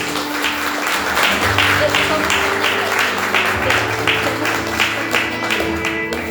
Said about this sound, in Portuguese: vamos recebendo ele com palmas para Jesus